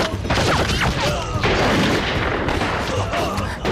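Heavy machine gun fire in a war film battle scene with Japanese military police, dense continuous bursts and booming blasts that fill the clip loudly.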